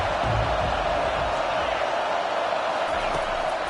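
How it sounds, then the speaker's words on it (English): Stadium crowd at a football game roaring steadily as the home fans try to keep the opposing offense pinned deep in its own end, a dense continuous wash of noise with a broadcast commentator's voice faintly mixed in. "this crowd trying to help keep them there"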